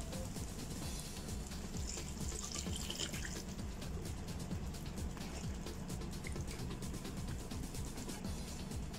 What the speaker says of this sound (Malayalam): ഇനി നമുക്ക് ഇതിനകത്ത് കുറച്ച് ചൂടുവെള്ളം ഒഴിച്ചിട്ട് ഒരു 10 മിനിറ്റ് കൂടെ കുക്ക് ചെയ്തെടുക്കണം.